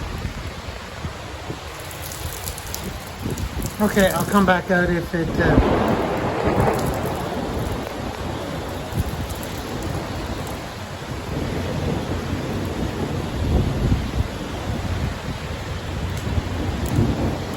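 Heavy rain from a tornado storm in Ottawa pours steadily throughout, with a rumble of thunder early on and a brief spoken remark partway through.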